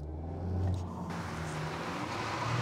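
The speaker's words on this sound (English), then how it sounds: "I'm gonna give this a brake boost launch." A 2023 VW Golf hatchback launching hard from a brake boost start with traction control off, a deep steady engine rumble and cabin roar that swells as the car pulls away, close and continuous.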